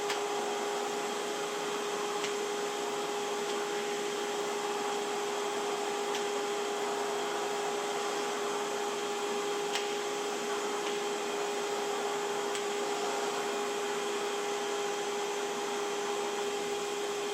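A Cecotec Triton wet vacuum cleaner sucks up water with a constant, steady motor drone and a whining tonal hum, unbroken and alone for the whole stretch.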